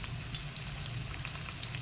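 Garlic, onion, ginger, shrimp paste and dried fish sauté in a pan for ginataang gabi, giving a quiet, even sizzle with a low hum underneath and no voices.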